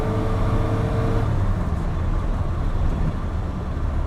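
Engine of a 1976 Lancia Fulvia S3 pulling along a road, a steady close drone with low rumble and broadband road noise that stays loud throughout.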